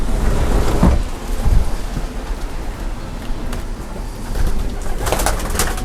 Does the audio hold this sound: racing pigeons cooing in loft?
yes